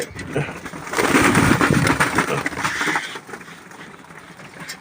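Pigeons on a rooftop coo and shuffle, a louder burst of bird sound swelling in the middle before easing off toward the end.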